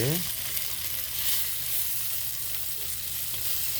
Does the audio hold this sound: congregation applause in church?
no